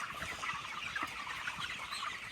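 A flock of young chicks in a brooder bedded with peat moss keeps up a dense, continuous chorus of soft peeping and clucking, close by but quiet, with no voices over it.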